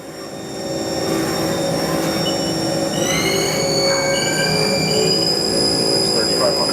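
Haas TM1 CNC mill from 2007, used only on plastic at a tech school, spindle turning steadily at 2,500 RPM with sustained whining tones that rise in pitch partway through over a constant mechanical hum, close and fairly loud.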